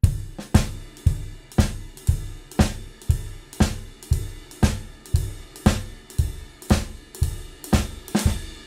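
A drum kit plays a shuffle with the notes spaced too far apart, so each beat lands as a heavy hit followed by a long gap. The pattern is loud, close and repeats steadily, with no talking.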